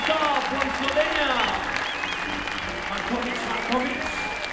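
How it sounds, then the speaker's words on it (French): A crowd applauds a climber at the 2008 World Cup climbing competition in Serre Chevalier, steady clapping running beneath an announcer's voice throughout. "je crois qu'on peut faire un peu d'un applaudissement à Mina Marković"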